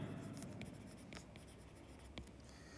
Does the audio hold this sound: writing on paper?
yes